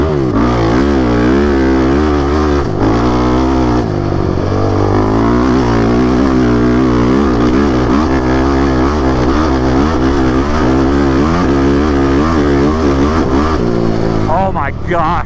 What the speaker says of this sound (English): This engine revs so freely, it just puts power everywhere, it feels like.